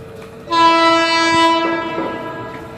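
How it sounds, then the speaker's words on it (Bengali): A train pulling into a railway station sounds a loud, sustained horn blast that holds for about two seconds, with rumbling wheels and rail noise beneath it. "আমাদের এখন ট্রেনের এখন খবর হয়ে গেছে ট্রেনটা ঢুকছে তোমরা দেখতেই পাচ্ছ"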